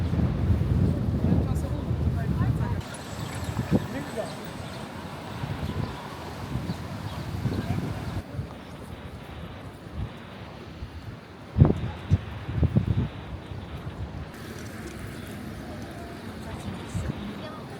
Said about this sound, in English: even if it is quite windy